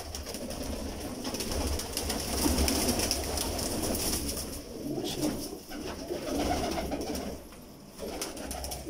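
Repeated low rolling coos from pigeons at a breeder's loft, steady and moderately close, swelling in several phrases with faint background rustle.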